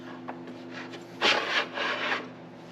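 A table wing bracket on an All-Slide sliding table attachment is slid aside, giving a short scraping rub of metal against wood near 1.2 to 2.2 seconds, close and fairly quiet, with no talk.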